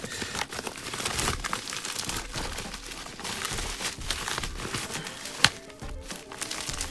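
Cardboard mail package of sports cards being sliced open and unwrapped, heard as close, continuous crinkling and rustling with a sharp snap partway through, no talk.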